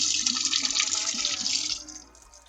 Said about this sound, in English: The water is draining out.